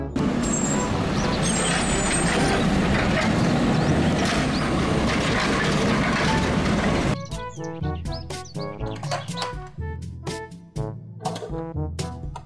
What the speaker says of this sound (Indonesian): Mobil truk pengangkut sampah